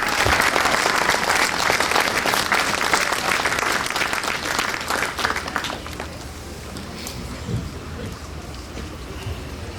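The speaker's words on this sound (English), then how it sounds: "Please, a round of applause for our entertainment this morning." Outdoor crowd applause for the patriotic-music entertainment at a Veterans Day parade, loud at first and then thinning out after about six seconds, with wind noise underneath.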